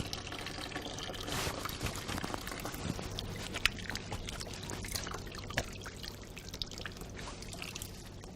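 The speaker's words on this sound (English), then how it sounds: "The assistant now comes in to pour the lotion" Lotion is poured during a nursing skin-care procedure, a faint, steady liquid trickle with small drips and soft handling clicks in a quiet room.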